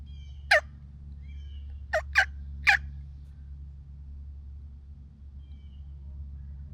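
A wild turkey answers a hunter's diaphragm call with a few distinct gobbles, one and then a quick cluster, fairly faint over a low constant rumble.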